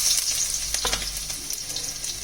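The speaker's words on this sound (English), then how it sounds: "I'm going to add the chopped garlic and also 2 green chilies that I have roughly chopped." Chopped garlic and green chilies frying in hot oil in a kadai over high flame, a steady hissing sizzle with a few stirring knocks, close and moderate in level, no speech.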